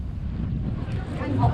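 Strong wind buffeting the microphone on a beach in the Netherlands, with a steady low rumble, beach surf faintly mixed in underneath, no voices.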